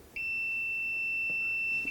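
A voltage tester held near a live wire gives one steady, high electronic beep lasting nearly two seconds, close and clear with no talk.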